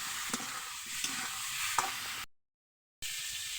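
Ginger and salt being sautéed in a pan, a soft steady sizzle with a few light stirring taps, close but fairly quiet, broken by a short dropout of silence.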